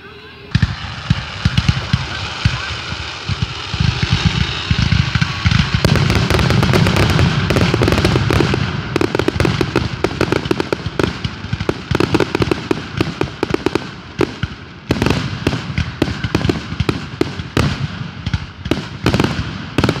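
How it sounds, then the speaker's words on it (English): Dense Fourth of July fireworks bursting over a crowd, with rapid crackling pops and booming blasts that grow louder and more frequent after the first few seconds. "For the fireworks. Any fireworks?"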